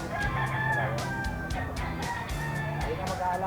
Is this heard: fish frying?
no